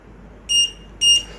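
A continuity component tester checking the pins of a PNP transistor gives two short, clear electronic beeps about half a second apart, close and alone.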